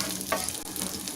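Onion frying in hot oil in a pan while sambar is being made, giving a steady, moderately quiet sizzle with a brief stir or clink near the start and no talking.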